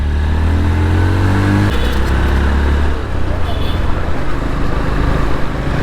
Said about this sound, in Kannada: ಸೊ ಎಕ್ಸಾಸ್ಟ್ ಒಂದು ಸ್ವಲ್ಪ ಬೇಸ್ ಆಗಿದೆ.